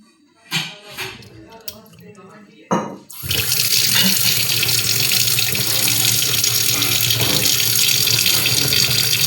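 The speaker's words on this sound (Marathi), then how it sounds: "दोन तीन पाण्याने चांगलं धुवून घ्यायचं मासं." Cleaned fish, including chambardi, washed under a running kitchen tap: after a few clattering handling sounds, a loud continuous rush of water gushes steadily into the sink, with a voice heard at the start.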